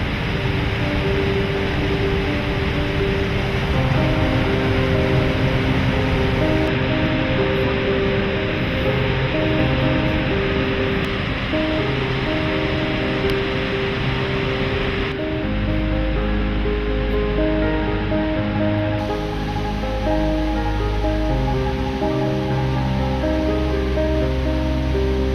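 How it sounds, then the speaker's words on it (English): Dettifoss in Iceland, Europe's most powerful waterfall, fed by grey glacial water, roars as a constant, dense rush of falling water with no talk. "From here we drove to Dettifoss, billed as the most powerful waterfall in Europe."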